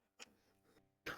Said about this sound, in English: Look, God, I caught Brad's cough.